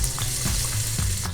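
Onion and ginger sauté in a hot pan with a continuous close sizzle and a few soft stirring scrapes.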